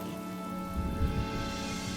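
Rain falls steadily in the Penacony setting of the game Honkai Star Rail, a constant close hiss with a low rumble swelling briefly in the middle.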